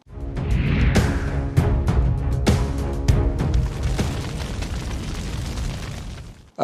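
A big explosion sound effect in a Russia–Ukraine war setting: a string of loud, heavy booms and sharp blasts rumbling continuously for several seconds before cutting off abruptly.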